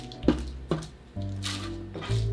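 Cooked cauliflower is dropped onto cheesecloth in a few soft, wet squishes and thuds, close and quiet, with brief pauses between each placement.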